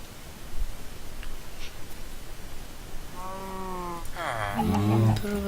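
Sheep bleating in Minecraft, two wavering harmonic bleats in the second half, the later one louder and more ragged, over a constant low background noise.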